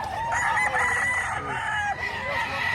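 A white bull stag rooster at a market in Padre Garcia, Batangas crows loudly and close, one long drawn-out call with a strained, wavering tone over a busy background.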